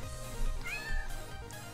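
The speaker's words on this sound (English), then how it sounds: "This is the same cat from earlier." A cartoon cat in the rhythm game Mad Rat Dead lets out a short, bright meow, with a quick rising-falling cry over busy game music.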